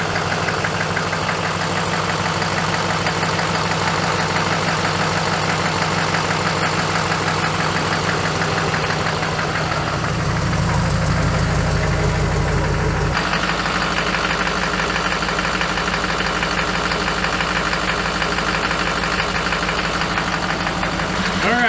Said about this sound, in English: So I'm sure y'all can hear in there that little bit of kind of ticking sound. I believe that's one of the injectors.